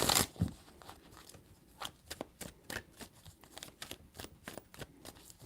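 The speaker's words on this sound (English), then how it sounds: "Three shuffles." Tarot cards being shuffled by hand in three bursts, a rapid run of sharp riffling clicks up close, each burst a quick series of crisp snaps with short pauses between.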